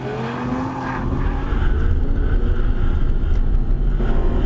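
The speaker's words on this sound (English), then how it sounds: "here with the R8 on track, they're just completely in their element" An Audi R8 race car rated at 550 horsepower drives on a track, its engine swelling into a loud, steady drone with a rising pitch that holds near and strong throughout, with no voices.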